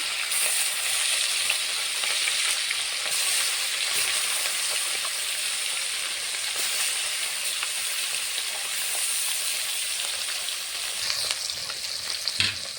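Bata fish pieces coated in turmeric and salt frying in hot white oil in a kadai, a dense, steady close sizzle with faint crackles throughout and a few small clinks near the end.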